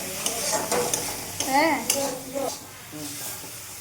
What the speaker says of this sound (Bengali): আবার আর একটু নাড়া দিয়ে দিচ্ছি। মশলাটা কষে আসছে